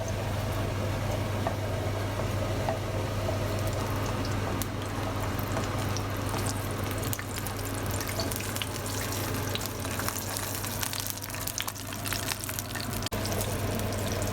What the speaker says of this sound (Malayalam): ഈ കാഷ്യൂ ഒന്ന് ശരിക്കും ഫ്രൈ ആവട്ടെ.